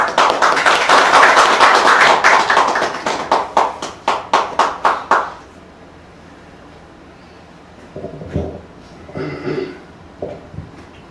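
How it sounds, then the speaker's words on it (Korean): An audience claps to welcome a guest speaker at a weekly invited lecture, with dense applause for about four seconds thinning into scattered claps, then a quiet room with a few faint knocks and shuffles. "박수로 환영해 주세요."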